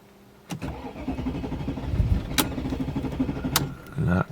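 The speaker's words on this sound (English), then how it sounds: "I'm very curious how it's gonna start" A Mercedes CLK55 AMG with a swapped supercharged M113K engine cranks and catches, settling into a rough idle with clicks and a brief stumble, heard up close.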